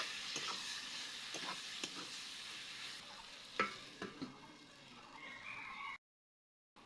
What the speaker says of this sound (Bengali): এবার কেটে রাখা টমেটো দিয়ে দিচ্ছি, আরও কিছুক্ষণ কষিয়ে নিব